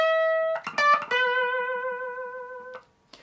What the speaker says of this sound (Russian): И 12 лад второй струны играем с вибрато.